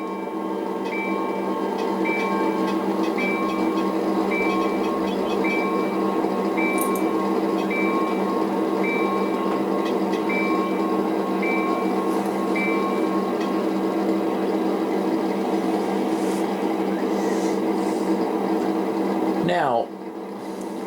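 An N scale model train locomotive sound system plays a steady electronic engine drone with a faint repeating tone, running continuously for about twenty seconds before a short sweep and drop near the end.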